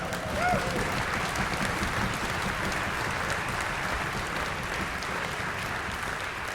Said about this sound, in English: Just give them a quick round of applause.